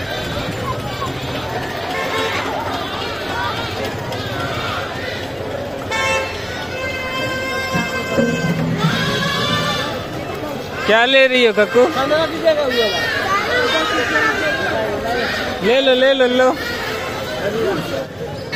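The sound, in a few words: crowd chatter at Ravan Dahan, Gandhi Maidan, Patna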